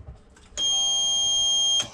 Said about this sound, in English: which sets off our alarm